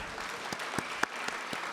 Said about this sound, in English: Yes, you can clap on that.